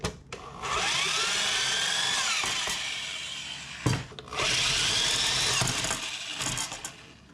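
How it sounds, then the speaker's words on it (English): A power drill bores holes for the valves of an overlanding roof shower, with a sheet of steel laid beneath the work. Two long, steady whining drill runs sit close and loud, separated by a brief clunk. "I'm gonna put this sheet of steel down so that I don't drill through to the workbench anymore."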